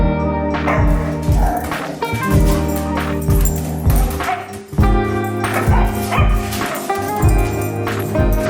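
Several excited foster dogs bark, yip and whimper almost nonstop, loud and close, with overlapping high-pitched cries, and a voice speaks briefly among them.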